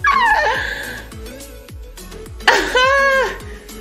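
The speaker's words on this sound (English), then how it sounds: "Oh, a dog?" A dog yelps and whimpers in high squealing bursts, with a string of short rhythmic thumps between them, loud and close.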